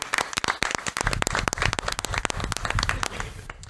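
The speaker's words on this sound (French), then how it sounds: "donc on va l'applaudir évidemment" An audience claps after a speaker's tribute on a live French show, dense, close applause of many hands lasting several seconds before thinning out at the end.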